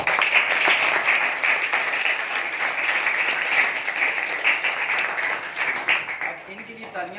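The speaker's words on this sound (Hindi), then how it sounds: "अपने प्रिंसिपल साहब के लिए तालियां बजाएं" School students clap for their principal, a dense, loud, sustained round of applause that holds steady and tapers slightly near the end.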